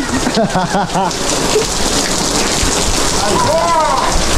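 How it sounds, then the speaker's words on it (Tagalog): Heavy rain falls continuously in a dense wash of patter, while voices talk and call out briefly over it. "Ngayon lang ba kayo nakakita ng ulan?"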